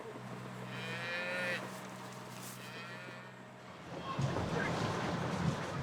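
Corsican tiger cattle moo outdoors in the maquis, two or three drawn-out lowing calls at moderate distance, followed by a steady wash of ambient noise that sounds like nearby surf.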